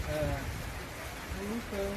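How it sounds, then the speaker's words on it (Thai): Steady rain pours during a summer storm, a dense continuous hiss and patter filling the background while a person talks over it. "นี่ก็ยังไม่ฝนยังไม่หยุดอีกนะ"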